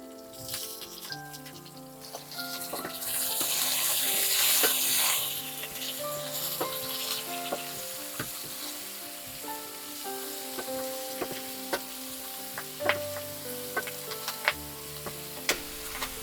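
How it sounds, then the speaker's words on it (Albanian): Chopped leeks fry in a pan for an Albanian rice dish with leeks and veal, giving a steady sizzle with light stirring clicks under continuous melodic background music. "Edhe këto sa të skuqen pak, a?"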